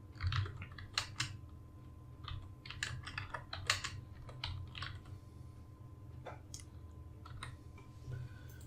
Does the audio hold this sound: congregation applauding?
no